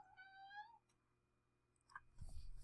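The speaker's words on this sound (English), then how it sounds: "Oh, it's Mags the cat here." Mags, a pet cat wanting to be petted, lets out one close, rising meow, followed by quiet moments and a few faint clicks and rustles.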